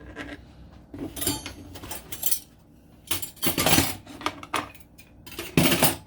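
Dishes, glassware and cutlery clink and clatter as kitchen items are shoved aside in a home kitchen, in several sharp close bursts separated by quieter pauses, with no voices.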